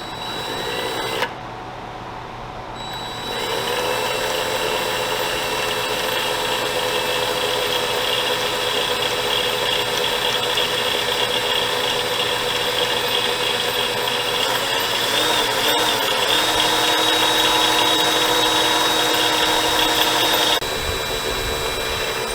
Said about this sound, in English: Time to drill a hole.